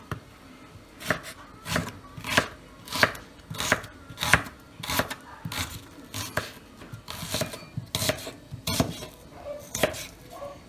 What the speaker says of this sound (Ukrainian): Я беру отакі три цибулинки. Зараз я їх нарізаю, вам покажу.